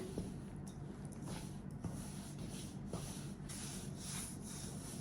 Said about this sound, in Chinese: 先给它搅成大面絮